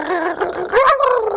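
A person imitates a pack of several dogs barking and whimpering in one short, loud, throaty vocal burst delivered up close.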